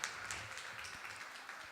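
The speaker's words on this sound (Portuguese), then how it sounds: "Vocês podem aplaudir esses casais" Church audience applauding couples at a family event, a faint, distant wash of clapping that carries on steadily without a clear break.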